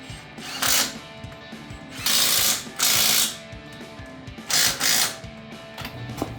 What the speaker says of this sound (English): all we need to do now is tighten up the bolts, those big bolts on the caliper.